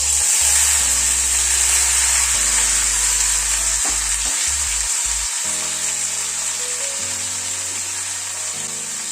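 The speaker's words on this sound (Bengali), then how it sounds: "প্রথমে পনিরটা একটু হালকা ফ্রাই করে নিচ্ছি" Paneer cubes lightly frying in white oil in a kadai, a loud, close, continuous sizzle with spatula scrapes and knocks against the pan, easing slightly toward the end.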